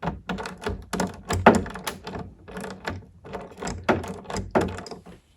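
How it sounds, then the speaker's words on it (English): A ratchet wrench loosens a bolt on a jet ski's seat or storage compartment latch, giving rapid bursts of close, crisp clicking with short pauses between strokes. "back to the loosen or counterclockwise configuration on the ratchet and continue loosening that bolt"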